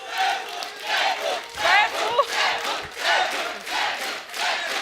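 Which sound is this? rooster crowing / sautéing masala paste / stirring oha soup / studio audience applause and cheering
studio audience applause and cheering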